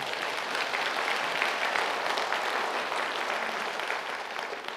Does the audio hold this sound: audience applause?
yes